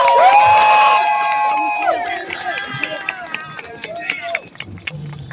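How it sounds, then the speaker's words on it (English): A crowd at an outdoor justice march cheers, whoops and shouts loudly and close, the roar fading gradually with scattered claps and voices. "Everyone give yourselves a round of applause."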